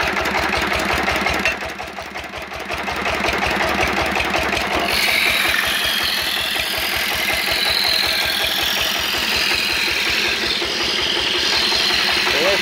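A diesel engine idles steadily while driving a homemade dowel-making machine for broom handles, its rapid even knocking pulse close and continuous, with a brighter mechanical whine joining partway through.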